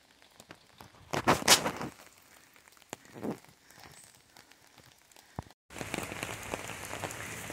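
Rain falls steadily in a park, pattering close on surfaces and on an umbrella, with a louder splashing burst early on and a dense, even downpour hiss near the end.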